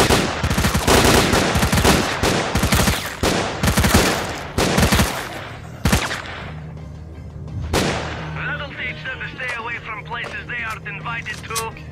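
Rapid gunfire in the shooter game S.T.A.L.K.E.R.: Clear Sky, with dense bursts of loud shots for several seconds, then a few isolated cracks as the fighting thins out and a voice talks over the quieter remainder.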